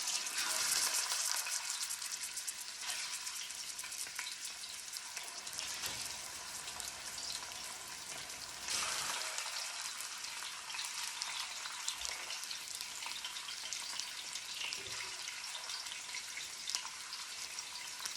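Wahoo and yellowtail tuna searing in a pan with a loud, steady hiss like heavy rain that rises and falls in broad swells. A few faint knocks come through, and nobody speaks.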